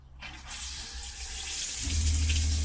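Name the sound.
water running from campervan tap and shower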